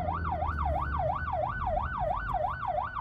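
A police siren wails in a fast rising-and-falling cycle over the rumble of a vehicle engine and road noise.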